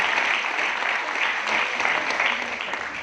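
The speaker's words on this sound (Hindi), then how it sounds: "ऑडियंस हाथ ऊपर करके तालियां बजाइए जरा" Audience at an education event in Aurangabad clapping with hands raised, a dense, steady wash of applause that holds fairly loud for the whole stretch, with no talk over it.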